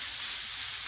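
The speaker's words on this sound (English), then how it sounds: "I'm going to fry my beef." Minced beef frying in a pan, a brief, steady broadband sizzle with a soft hiss, close and continuous with no talking.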